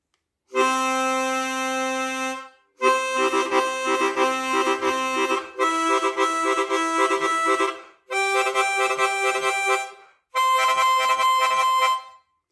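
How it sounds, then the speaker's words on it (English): Harmonica octaves played with tongue slapping in five short bursts with brief gaps between them, some with a rapid, pulsing slap rhythm. Close and loud, with no talking. "Tongue slapping on octaves sounds like this."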